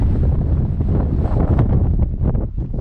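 Strong, steady wind blasting across an open mountainside during a descent, roaring and buffeting the microphone without pause, loud and close, with no voices.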